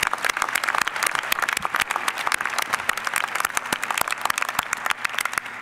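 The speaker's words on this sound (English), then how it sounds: "And a round of applause, actually." A commencement ceremony audience applauds the graduating class, a dense, steady patter of many hands clapping without pause, loud and close, filling the hall for several seconds.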